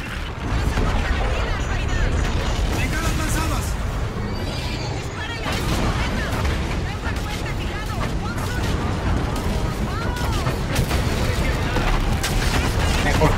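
Machine gun fire in the Call of Duty: Infinite Warfare campaign, a dense, loud, continuous barrage of shots and booms with mechanical clatter, sustained throughout, with game voices mixed in.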